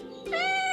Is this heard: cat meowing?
yes